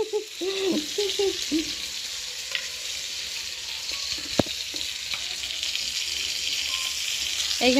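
Giant freshwater prawns fry in a pan with a steady, close sizzle, broken now and then by soft clinks and scrapes of stirring.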